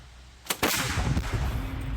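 A single heavy boom bursts out, followed by a long rumbling roar that carries on to the end.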